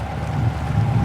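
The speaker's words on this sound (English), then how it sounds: "Gusts. Strong gusts." Strong wind gusts buffet a narrowboat in the English countryside, a loud, continuous low roar of blustery wind noise pressing on the microphone for about a second, with no talking.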